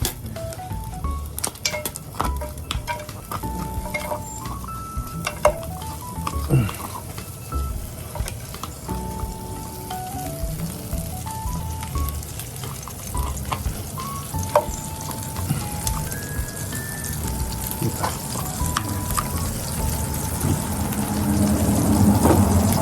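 Sisig fries in a pan with margarine and garlic, crackling and sizzling steadily with scattered bright pops and occasional utensil clinks, growing slightly louder toward the end.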